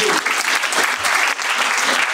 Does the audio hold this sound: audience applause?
yes